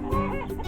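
Backyard chickens cluck noisily together in a short, close burst of overlapping clucks.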